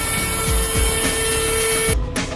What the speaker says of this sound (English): Our CNC machine this morning. It's our X-carve from Invenable.